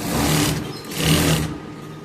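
A sewing machine runs an edge stitch through a blouse and its lining in two short close bursts of rapid mechanical whirring, each swelling and then dropping away.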